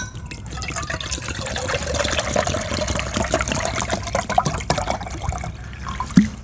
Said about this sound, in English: I'm gonna pour 2 cups in there.